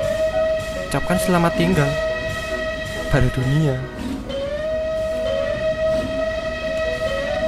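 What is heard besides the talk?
train horn in Trainz 2009 video game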